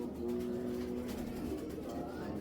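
Racing pigeons of a Belgian bloodline, a pair of large champion birds, give soft low cooing close by, a faint continuous murmur over quiet background noise.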